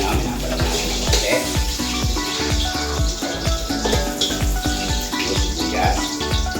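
Garlic sautéing in a pan while cooking beef asado, a steady close sizzle with clinks and scraping of a utensil running throughout.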